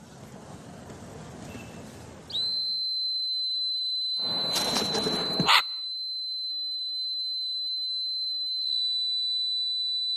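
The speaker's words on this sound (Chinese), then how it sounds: "那口哨的声音" Inside a television studio, a whistle is blown to call a pet parrot back. It makes a piercing, high-pitched tone held steady for about eight seconds, briefly overlapped by a burst of noise partway through.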